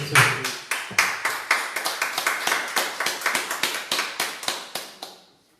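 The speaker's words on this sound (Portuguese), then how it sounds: "vamos dar uma salva de palmas, querido" A church congregation gives a round of applause, sharp hand claps falling into a fairly steady rhythm that fades out at the end, loud and close with no talking over it.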